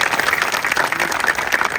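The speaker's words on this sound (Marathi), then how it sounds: "एकदा या तरुण कार्यकर्त्यांकरता जोरदार टाळी वाजवा." A crowd at a kirtan during the Shri Sant Balumama Bhandara festival gives strong, sustained applause, dense steady clapping filling the whole moment at close range.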